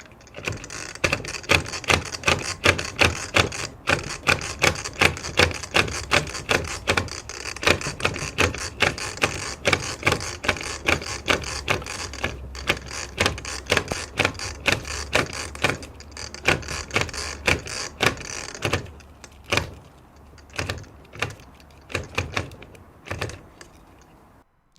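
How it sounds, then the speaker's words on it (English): A DeWalt Quickload string trimmer head being ratcheted by hand to wind new line onto its spool, giving a long run of rapid plastic clicks in steady bursts, close and clear, slowing and thinning out near the end. "use a ratcheting motion to load up your new spool."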